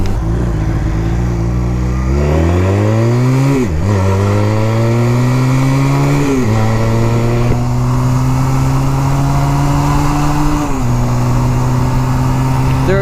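A Honda Rebel 250 motorcycle accelerates onto a highway, its engine loud and close, rising in pitch through several gear changes with brief dips between shifts, droning steadily over wind rush.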